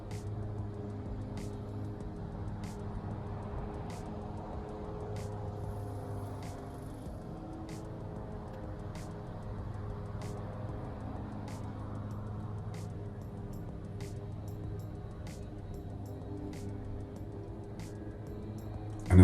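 A car pulls out of a parking lot and turns left during a driving road test, with a steady, low engine and road hum from inside the cabin and faint periodic clicks, likely a turn signal.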